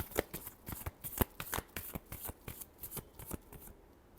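Tarot cards are shuffled up close: quiet, crisp, rhythmic flicks and riffles, about a dozen quick bursts over four seconds, with no talking.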